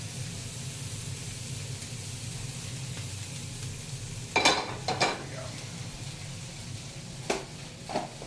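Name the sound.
chorizo sizzling in butter in a pan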